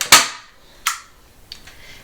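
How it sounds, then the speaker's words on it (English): Staple gun fastening ribbon on a handmade Christmas card holder: two sharp, loud snapping clacks a little under a second apart, followed by a fainter click, each dying away quickly with nothing else audible. "we're gonna take our staple gun because we want it to hold."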